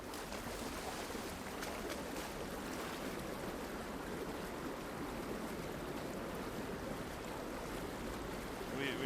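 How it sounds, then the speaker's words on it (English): Water pours steadily into a container in the video game Horizon Forbidden West, a continuous soft rushing splash at low level with no speech over it. "Now we fill with the water."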